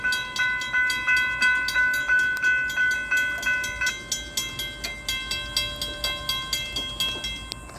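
Rhythmic, evenly spaced chugging pulses of an FEC train roll along with a sustained tonal hum above them, fairly quiet and without any talking.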